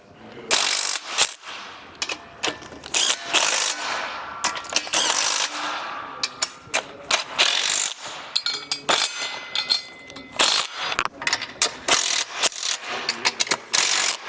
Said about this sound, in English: I would suggest tightening down everything. So that's going to be your 17 millimeter socket, 17 millimeter wrench.